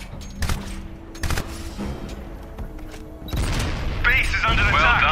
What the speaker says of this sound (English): Throw a frag through the window on the right.